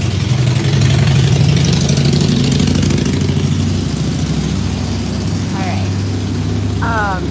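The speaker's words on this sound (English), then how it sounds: "Sorry, loud motorcycle. Very loud." A loud motorcycle engine rumbles nearby in a steady, throaty drone that swells and then eases slightly, with a few faint chirps in the background and no clear speech over it.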